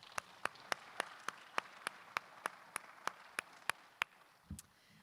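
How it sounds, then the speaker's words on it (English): Scattered clapping from a hall of fame induction audience, about a dozen sharp, evenly spaced claps in a slow rhythm, fairly faint and distant, ending with a brief low thump. "I think that deserves a round of applause."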